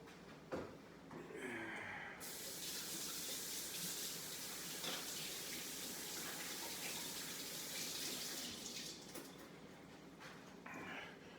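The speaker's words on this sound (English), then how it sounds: "Give me a second, I'll wash my hands." Tap water gushes steadily as hands are rinsed under it in a kitchen, starting abruptly after a brief clatter and running loudly near the microphone before tapering off.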